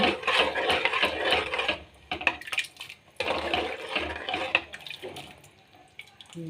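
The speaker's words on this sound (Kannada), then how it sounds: "ತೊಳೆದಿರುವ ನೀರನ್ನು ಹಾಕೋಣ ಮತ್ತು ಇನ್ನು ಸ್ವಲ್ಪ ನೀರನ್ನು ಹಾಕೋಣ" Water is poured into a pot of vegetable sagu curry, with gushing, splashing bursts that come and go in uneven waves before easing off.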